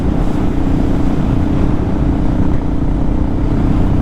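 Honda Shadow 500 motorcycle cruising at 4,000 RPM and 50 mph in fifth gear: a steady, loud low engine drone mixed with heavy wind rush, unbroken for the whole stretch.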